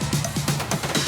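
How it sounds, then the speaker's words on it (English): A busy drum fill from a Splice sample pack for a big room drop, with rapid, dense tom and percussion hits rolling in a quick, continuous pattern, loud and close with no talking. "I use Splice to grab a Tom and Jane fill. It sounds like this."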